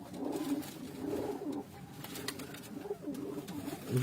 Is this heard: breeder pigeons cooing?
yes